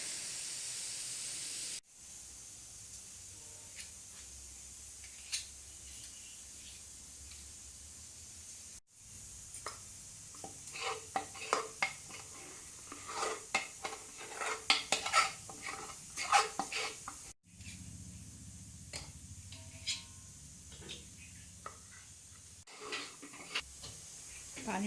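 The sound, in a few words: cooking daleem in pressure cookers on gas stove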